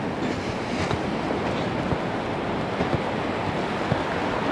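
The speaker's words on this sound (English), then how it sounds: "Oh, a few breakers in there." Ocean waves and small breakers washing onto a sunny beach in Bulgaria in calm morning conditions, a steady broad wash of surf with soft crashes, no voices.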